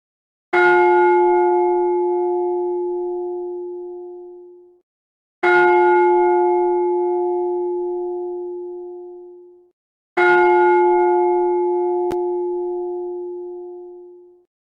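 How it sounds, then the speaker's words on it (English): Three separate strikes of a clock bell, each a clear ringing tone with a long fading decay, evenly spaced about five seconds apart and heard alone. "The clock bell rang again."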